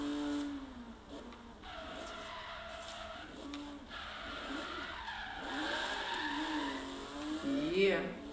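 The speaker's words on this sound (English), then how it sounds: "Oh no, I drifted too much." A Porsche in the Forza racing game drifts with long, wailing tire squeals over a revving engine, the screech rising and bending sharply near the end, heard behind someone talking.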